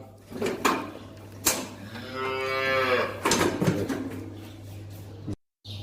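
A young calf under a month old, being dehorned by a Thai farm worker in Israel, lets out one long, drawn-out moo up close, with short knocks of handling before and after and a steady hum beneath.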